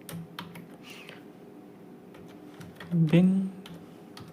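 Someone types a bash script on a computer keyboard, producing a few sparse, light key clicks under someone speaking Hindi.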